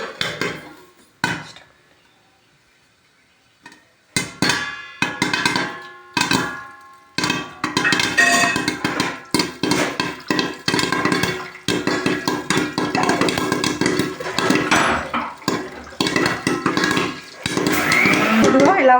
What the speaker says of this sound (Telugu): పాప్కార్న్ అవుతున్నాయి. ఈలోపు మనం కొంచెం మూత వేసుకోవాలి.